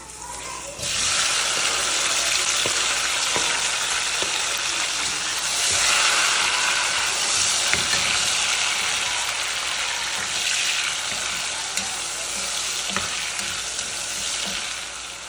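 Tomatoes cook down in hot oil for a green gram stew, a loud, even sizzle that starts abruptly and runs on steadily with small spatters and occasional stirring, no voices heard.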